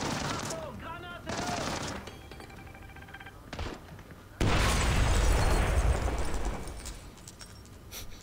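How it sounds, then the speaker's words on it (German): In the video game Splinter Cell Blacklist, scattered gunshots crack over several seconds before a grenade blast erupts into a loud, sustained roar of booming and rattling fire that slowly fades. Voices briefly sound in the early part. "Achtung, Granate."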